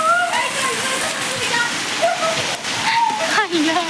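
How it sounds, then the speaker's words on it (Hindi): Rain pours down heavily outdoors at a fair, with a dense, steady hiss and splash. People talk and exclaim excitedly over the rain throughout. "ये रही बारिश"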